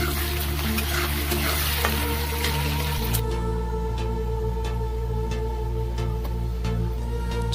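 Chilies hit hot mustard oil with onion, bay leaf and cinnamon, giving a loud, continuous sizzle and crackle; a low steady hum shifts partway through as frying carries on alone.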